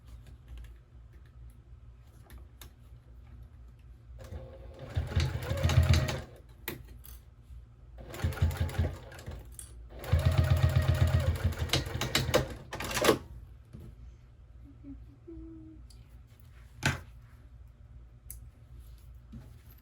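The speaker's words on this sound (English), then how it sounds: "You can either hand sew it or you can sew it with your machine, which is what I am going to do." A sewing machine stitching a triangle pouch made from fabric scraps, running in several short bursts of rapid mechanical clatter with quiet pauses between them and a single click near the end.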